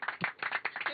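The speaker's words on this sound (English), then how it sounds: "I don't think I'm ready for clapping yet" A few people clap aboard the International Space Station after an astronaut pin ceremony, a brief quick burst of close, light handclaps.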